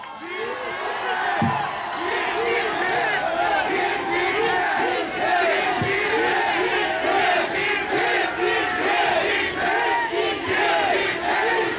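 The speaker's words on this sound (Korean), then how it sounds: "뜨거운 박수로 환영해 주시기 바랍니다." A large outdoor political rally crowd at a protest in front of the provincial office chants and cheers in loud rhythmic unison, with clapping mixed in and a couple of sharp thuds, sustained throughout.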